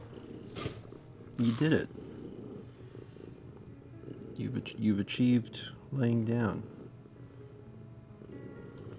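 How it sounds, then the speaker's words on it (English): A cat purrs softly and steadily in the background while a person speaks over it in several short bursts. "We are still purring so hard."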